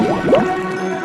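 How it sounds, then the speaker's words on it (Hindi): An axe dropped into a river makes a brief, close watery plop followed by a soft gurgle and drip, with no talking. "और जानबूझकर कुल्हाड़ी को नदी में गिरा दिया।"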